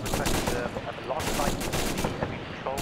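Sustained gunfire in the ARMA 3 video game, loud dense automatic bursts and rattling shots in a continuous barrage with a faint voice underneath.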